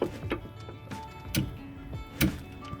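14mm socket and ratchet loosening the diff fill plug on a BMW E34, a series of sharp metallic ticks and clicks at an irregular pace, close and fairly faint.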